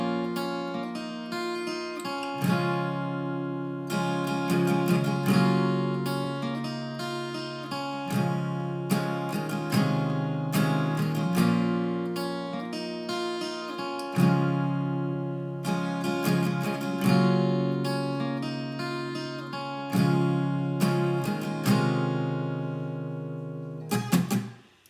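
Acoustic guitar plays the intro of a song: strummed chord phrases ringing out, broken by short pauses, with a final few strums near the end. The guitar is close and clear, with no voices.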